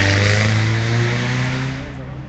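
A rally car powering through a sandy stage at the Sandblast 2013 event, a loud steady engine drone with harmonic tones that slowly fades as it moves away.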